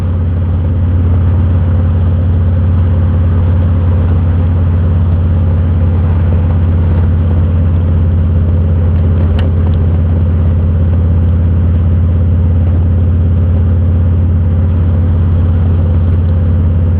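A motorcycle fitted with Vance and Hines Shorty exhausts rides along, a loud, continuous low engine drone with wind rush running unbroken throughout.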